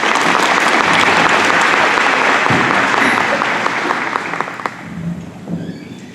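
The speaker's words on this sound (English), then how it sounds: "Let's give these young ladies another round of applause." An audience at a service club luncheon during the Yamboree breaks into loud, sustained applause that gradually thins out and fades over several seconds.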